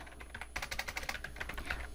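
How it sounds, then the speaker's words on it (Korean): Rapid typing on a computer keyboard while working in AutoCAD 2022, a fast run of light clicky keystrokes, close and steady, over faint room hum. "타이핑 해 주시고요"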